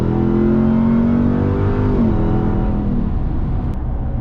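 A Ram TRX pickup truck with an aftermarket exhaust accelerating, giving a steady loud engine drone that rises in pitch, briefly drops at a gear change and then climbs again, heard close and continuous with no talking.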